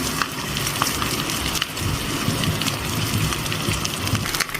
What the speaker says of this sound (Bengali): ডিমগুলোকে ভেজে আসি হালকা করে